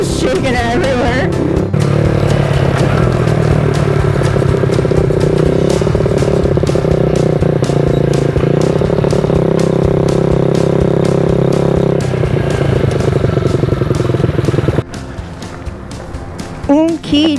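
A motorcycle is ridden out to check the mail, its engine droning steadily and loudly close to the rider, with wind and rattling clatter. The engine drops away near the end, and there is some talk.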